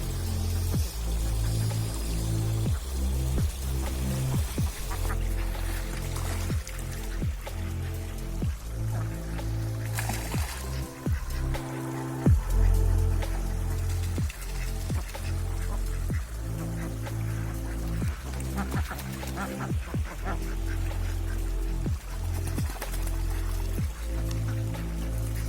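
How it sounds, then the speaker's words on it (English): Water spills steadily from a garden waterfall, a continuous splashing pour with small irregular drips throughout. No ducks stand out clearly. "we can sit and listen to the waterfall and watch the ducks"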